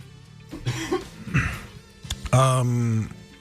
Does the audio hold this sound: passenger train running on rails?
no